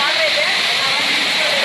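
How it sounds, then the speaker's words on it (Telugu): Ramapuram waterfall near Tirupati roars in a loud, dense, continuous rush of falling water, close and unbroken, with a voice faintly present beneath it. "ఇక్కడ వాటర్ దూకుతూ ఉన్నాయి అన్నమాట"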